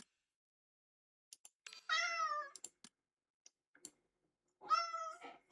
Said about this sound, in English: What are we meowing about?